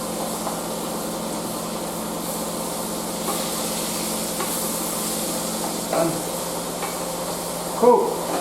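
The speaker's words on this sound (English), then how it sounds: "Again, just let those sear off, let those brown." Meat searing in a hot pan with a steady sizzle, stirred now and then with a few scraping knocks, close and continuous.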